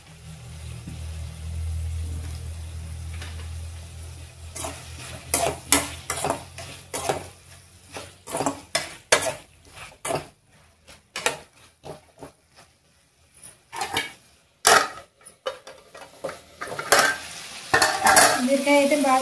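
A spoon stirs cooked ridge gourd chutney mixture in a pan, scraping and clattering against the metal in quick bursts, with a soft sizzle early on and no talking.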